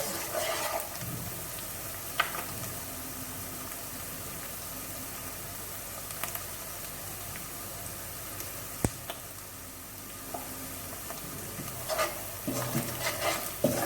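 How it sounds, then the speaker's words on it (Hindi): Onions frying in oil in a pan, browning for chicken biryani, give a steady, fairly close sizzle, with occasional scraping clicks and stirring knocks from a spoon, and no talking. "प्याज लाइट ब्राउन होना स्टार्ट हो गई है"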